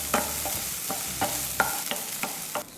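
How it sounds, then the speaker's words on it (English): Chopped tomatoes cook in a pan, a soft sizzle broken by about half a dozen sharp spoon scrapes and taps at a steady stirring rhythm, fairly close and with no talk over them. "Chopped tomatoes. I'm going to cook until it's soft and mushy."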